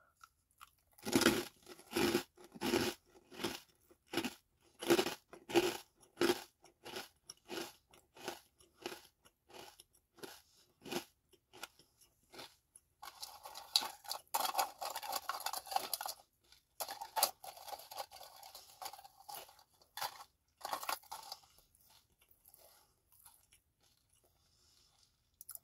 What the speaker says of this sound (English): Let's do a closed mouth crunch.